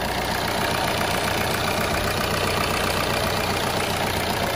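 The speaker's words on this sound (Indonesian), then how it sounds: "Nah ini suara mesinnya bisa kita dengarkan ya." A 2018 Suzuki Ertiga Diesel Hybrid with a 1300 cc diesel engine idles steadily nearby, a continuous, even rumble with a faint knocking texture and no voices.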